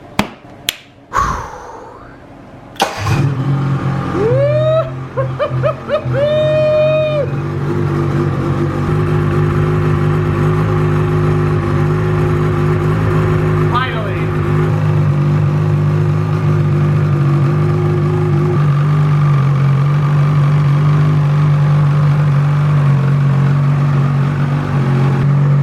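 A Ski-Doo snowmobile engine sputters and catches after a few short tries, then settles into a loud, steady, close-up idle that continues throughout.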